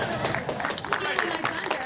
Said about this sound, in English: Mr. Malanga gets the applause.